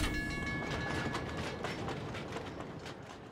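A metro train ride in the game F.I.S.T.: Forged in Shadow Torch, heard as a steady, loud rumbling roll of rail carriages with faint clickety-clack, uninterrupted from start to finish.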